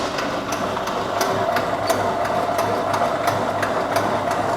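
An industrial detergent mixer runs loudly and steadily as LABSA is dosed in, with a constant mechanical hum and a regular ticking or clattering beat repeating several times a second throughout.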